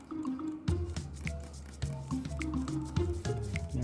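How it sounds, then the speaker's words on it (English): Water sprayed in short repeated bursts onto a paper towel while dampening it to start hot pepper seeds, each squirt a brief wet hiss with soft squishing, close and fairly quiet, with no talking. "spray this paper towel down"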